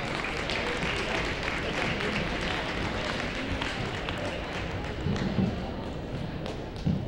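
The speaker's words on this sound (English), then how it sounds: "Let's give them a round of applause." Gym crowd applauding the junior varsity girls basketball squad at a high school ceremony, a steady wash of clapping with thumps and footsteps mixed in, moderately loud throughout.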